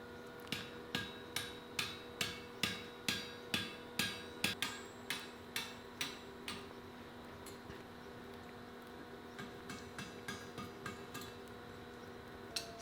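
A hammer strikes a steel drift driven through forged reef-knot chain links, ringing metallic blows in a steady, rapid rhythm that pause, then resume more faintly and irregularly.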